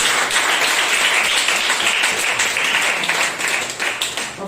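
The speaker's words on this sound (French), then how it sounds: "Hey, applaudissez." Church congregation clapping in a lively, continuous burst, a thick wash of many hands that fades slightly toward the end, with no speech over it.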